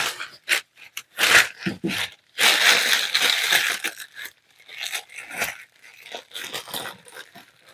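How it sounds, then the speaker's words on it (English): A thin plastic proofing bag used for rising sourdough bread is handled, giving bursts of close, loud crinkling and rustling that start and stop irregularly, with a few soft knocks between them. "I have this proofing bag that I use. It's just a plastic bag."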